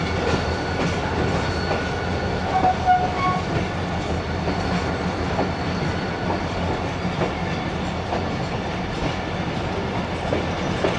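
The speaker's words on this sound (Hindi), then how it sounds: "वज़ीराबाद जंक्शन पहुंची है सियालकोट एक्सप्रेस" The Sialkot Express passenger train rolls along the rails near Wazirabad Junction, a steady rumbling clatter with a continuous low drone and faint tonal squeals, close and unbroken.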